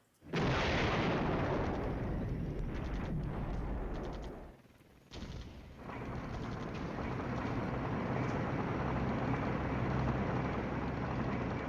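Artillery strike explosions in the wargame Flashpoint Campaigns open with a loud blast and then a rumbling barrage. Heavy booms roll on continuously, a brief lull falls near the middle, and the rumble picks back up.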